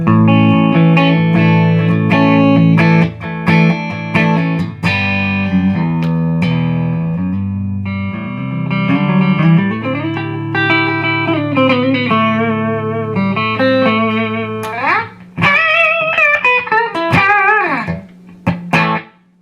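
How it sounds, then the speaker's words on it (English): Electric guitar through a Marshall DSL 50 amp with reverb switched off: loud, dry, crunchy distorted chords and single notes, played close with abrupt stops between phrases and a brief melodic run near the end. "let's turn the reverb off just so we can really hear the tone of the amp"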